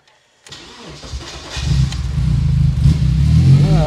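A car engine cranks after a brief silence and catches, then settles into a steady, loud, close idle that rises slightly in level and holds, with no voices.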